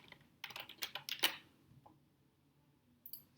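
Fingers tap out a spreadsheet VLOOKUP formula on a computer keyboard in a quick burst of light clicking keystrokes, then a pause and a couple more taps, close and soft with no voices.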